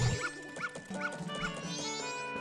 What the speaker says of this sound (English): The dog's so happy.